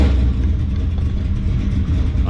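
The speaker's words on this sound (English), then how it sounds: "when I started my truck up" A GMC Sierra truck with an 8.1 Vortec engine runs rough with a loud, uneven, low mechanical rumble. It stays close and continuous with no voices over it.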